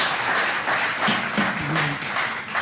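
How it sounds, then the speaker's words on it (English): Audience applause at a city council meeting in Clearwater, a broad steady wash of clapping with a brief voice or tone rising faintly underneath. "just hold the applause"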